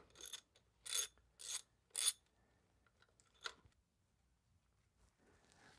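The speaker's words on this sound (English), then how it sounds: "So we're going to loosen those now and remove these two bolts." Ratchet wrench working 10 mm fuel system bolts on a 2007 Pontiac Solstice: four quick close clicking bursts, then a single faint click, with a quiet pause in between.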